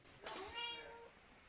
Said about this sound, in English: we knew that the cat was going to hijack the recording session in one way or another